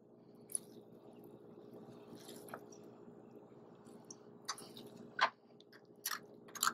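Grated potato squeezed by hand gives soft wet squishes and drips, with a few sharper squelching bursts toward the end over a quiet background hum.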